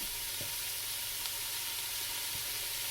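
Vegetables wilting in a hot pan for split pea soup, a steady dense sizzle close by with a couple of soft knocks, no voices.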